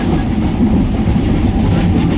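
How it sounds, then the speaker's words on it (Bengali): A local train runs from Singur station toward Howrah, its carriages giving a steady, loud, continuous low rumble and rattle from close by, with no voices. "অলরেডি আমরা আমাদের পোটলা পুটলি নিয়ে একেবারে সিঙ্গুর স্টেশন হইতে লোকাল ট্রেনে উঠে পড়েছি"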